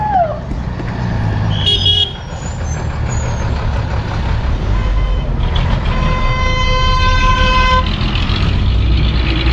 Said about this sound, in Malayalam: ഗുരേസ് വാലിനെ ശ്രീനഗറിനെയും തമ്മിൽ കണക്ട് ചെയ്യുന്ന പബ്ലിക് ട്രാൻസ്പോർട്ട് പഴയ കാലത്തെ ബസ്